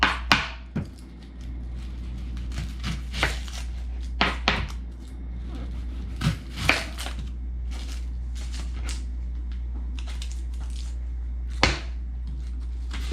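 A knife chops through onions on a wooden board in a kitchen, irregular sharp cuts and knocks, some in quick pairs, over a low steady hum.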